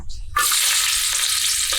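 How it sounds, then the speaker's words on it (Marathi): Fenugreek seeds hit hot oil for a tempering and burst into a loud, close, steady sizzle that holds for nearly two seconds after a sharp onset, with no talking. "दहा ते पंधरा दाणे मेथीचे फोडणीमध्ये टाकायचे"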